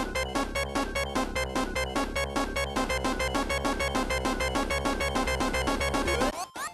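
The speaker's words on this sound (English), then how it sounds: "that's the drowning noise" Sonic the Hedgehog underwater drowning countdown music from Labyrinth Zone, a loud, fast, insistent synth theme with pulsing rapid repeated notes that cuts off abruptly near the end.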